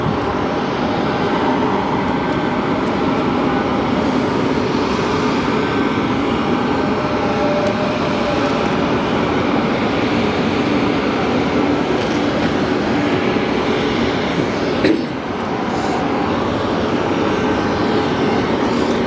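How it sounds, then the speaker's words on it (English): A Boeing 737 MAX 8 with CFM LEAP engines spools up at an airport, a steady broadband roar with a faint high whine continuing for the whole span, heard from a distance with no talking. "You can hear the startup of that Max 8. Those CFM leaps are so quiet, but they love to whine"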